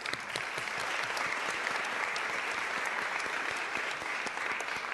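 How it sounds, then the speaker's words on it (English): Dense, sustained applause from the audience at a Board of Supervisors meeting, steady and fairly loud from start to finish, with no voices standing out. "Give yourself a round of applause."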